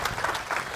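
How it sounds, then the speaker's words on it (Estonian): Audience applause for speakers at a business talk, a short burst of clapping from a crowd, fairly close and steady. "Aplaus!"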